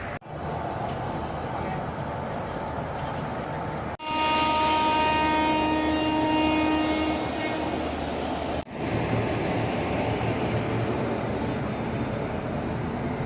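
The Nilgiri Blue Mountain Express runs with new LHB coaches, a steady rumble of rolling wheels broken by a loud, sustained multi-tone horn blast in the middle, with a voice talking over the passing train.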